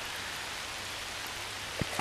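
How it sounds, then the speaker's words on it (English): Rain falling steadily during a river fishing trip, a soft even hiss with a brief knock near the end and no voices. "Stop it, rain."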